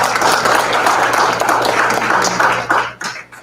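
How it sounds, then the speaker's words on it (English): Loud, dense audience applause at a media launch event, a sustained wash of clapping that thins and fades toward the end. "Can we clap hands one more time?"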